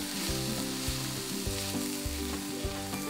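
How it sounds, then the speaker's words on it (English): Onion browns in a pan for a curry, sizzling quietly and steadily at close range with faint scraping and stirring knocks, no voices. "Flatten the onion and brown it again."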